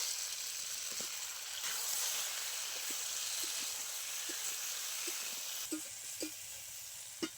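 Eggplant goes into a pan of potatoes and radish frying in tempered spices, producing a soft, low hiss of frying with scattered faint pops and crackles and a few small clicks near the end.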